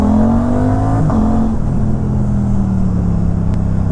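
Motorcycle fitted with a GPR Ghost full exhaust system with the dB killer on, revving and riding with a loud, close, steady engine drone whose pitch shifts up and down as the throttle changes.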